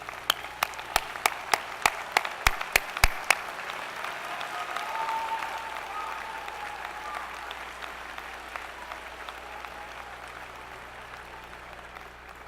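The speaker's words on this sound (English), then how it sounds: "I'll ask that our graduates join me in applauding them" Audience at a spring commencement ceremony applauds graduates' families, opening with a few sharp nearby claps, then swelling into broad sustained clapping that slowly fades across the hall.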